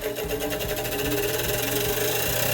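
A Harbor Freight Bauer 6-inch bench grinder with LED lights switches on and spins up, a loud motor whir with a rapid rhythmic vibration that builds steadily.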